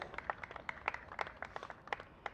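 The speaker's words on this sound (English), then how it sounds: "I think that deserves a round of applause." Wedding guests applaud the vows at a small ceremony, a light scattering of handclaps from a few people, close and fairly quiet, irregular bursts of claps without speech.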